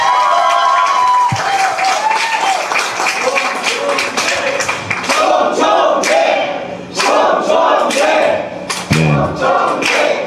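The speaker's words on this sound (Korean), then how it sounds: "이렇게 길게 박수치라고 얘기하는 사람은 처음 봤죠" An audience at an Incheon Democratic Party members' meeting claps and cheers loudly and continuously, with voices shouting over the dense applause.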